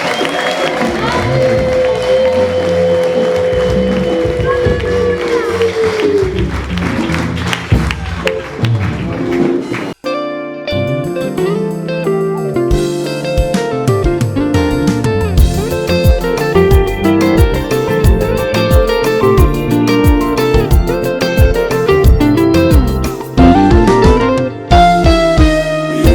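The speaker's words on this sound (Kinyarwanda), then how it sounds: "ni muduhere Imana amashyi menshi n'impundu" A church congregation at a choir service claps and ululates in praise of God, with loud cheering and applause that gives way to rhythmic music carrying on over the crowd noise.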